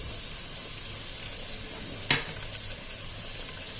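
Garlic and ginger paste fries in oil with a soft, steady sizzling hiss. A single sharp clink or stirring scrape cuts through midway, and the whole is quiet and close.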